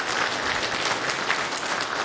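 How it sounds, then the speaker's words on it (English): An audience at a Go developers' lightning-talk session claps for the next speaker, a dense, even burst of applause filling the room for about two seconds with no voices over it. "So round of applause for John."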